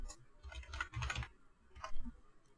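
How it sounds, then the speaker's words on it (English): Computer keyboard typing while entering text in After Effects, a few short quick bursts of clicking keystrokes separated by pauses, close and fairly quiet. "let's type in After Effects"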